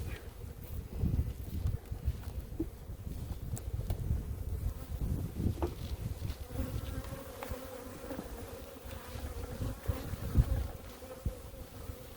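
Honey bees buzz steadily around hives outdoors, a low continuous drone of many insects close to the microphone, with scattered individual bees passing and light wind noise.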